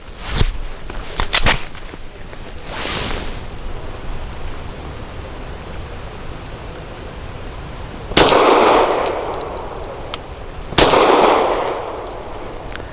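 Gunshots from a Walther PDP 4-inch Compact pistol firing Federal Syntech 147-grain training match rounds: several sharp cracks early, then two loud, echoing reports spaced a few seconds apart at an outdoor range.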